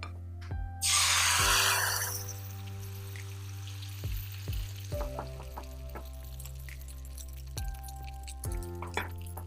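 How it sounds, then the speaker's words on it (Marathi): Batter poured onto a medium-hot tawa griddle gives a brief loud hissing pour near the start, followed by soft sporadic taps and gentle cooking sounds. "आपल्याला तवा मध्यम गरम करून घ्यायचा आणि नंतर बॅटर ओतायचं आहे"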